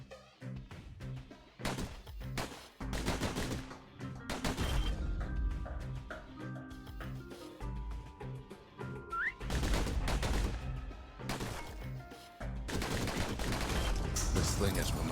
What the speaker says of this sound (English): They could shoot their pistols with the speed of a machine.